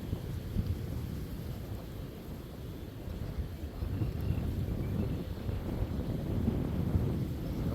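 Wind gusting across a spring creek on a windy day, a low rumbling buffet against the microphone that swells and eases continuously, loud and close with no other sounds.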